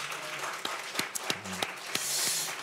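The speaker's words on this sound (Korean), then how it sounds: "우리에게 그 귀한 은총 베풀어 주신 하나님께 한번 큰 감사와 영광의 박수를 한번 올리겠습니다" A church congregation applauds at the close of a Sunday sermon, a thin, fairly quiet patter of hand claps with a few sharper distinct claps standing out, swelling slightly near the end.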